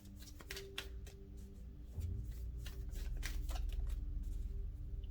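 Moonology oracle cards riffled and shuffled by hand, quick papery flutters and taps up close, then a denser continuous shuffle over a low room hum.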